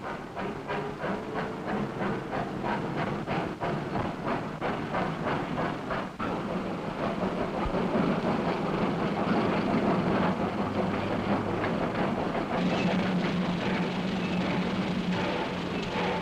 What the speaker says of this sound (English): Journey's End is the smoke and steam and bustle of the shunting yards